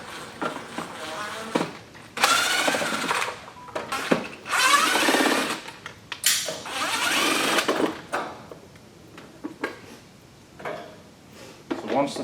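A power driver fitted with a long number 2 square bit backs screws out of an electric tongue jack cover, running in several loud whirring bursts separated by pauses and small handling clicks.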